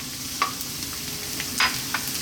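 Chopped garlic frying in sunflower oil in a wok, giving a steady low sizzle with a few brief sharper crackles and spits scattered over about two seconds, with no talk.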